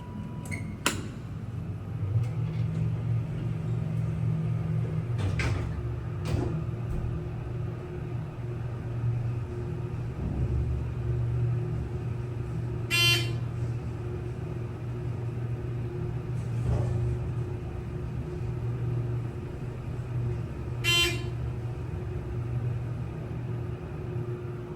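ThyssenKrupp hydraulic elevator running in the Julia Ideson Building in Houston, Texas: a steady low hum and rumble throughout, with a few faint clicks and brief chime-like tones over the top.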